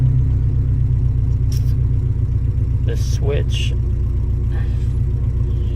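A 1986 Nissan D21 pickup's engine runs with a steady, loud low rumble throughout, with brief switch clicks and someone talking over it.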